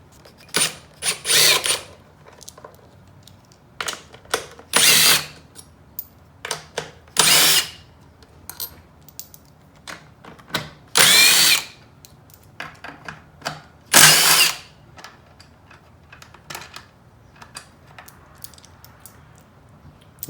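A power tool drives out bolts holding the plastics and airbox on a Yamaha YFZ450 ATV, in repeated loud bursts of a few seconds each, separated by quieter clinks and handling noise. No one talks.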